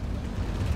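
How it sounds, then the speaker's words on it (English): Turrets on the side of a ship blowing up in the Halo 4 video game, a dense, continuous roar of explosion with heavy low-end rumble filling the whole short moment, no speech. "they blew up the turrets on the side."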